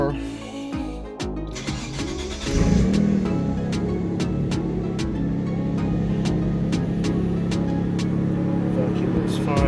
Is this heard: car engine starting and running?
yes